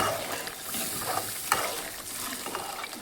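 Carrot and potato mixed vegetable masala frying and being stirred in a pan, a steady soft sizzle with scraping and clinking of the spoon, close and moderately loud, no talking.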